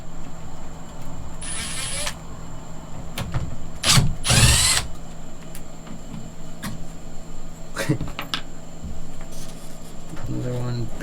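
A power drill backs Phillips screws out of panels inside an RV motorhome, giving a couple of short whirring bursts in the middle amid handling clatter, with a steady background hum and someone talking.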